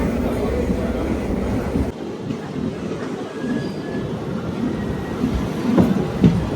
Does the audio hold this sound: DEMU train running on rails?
yes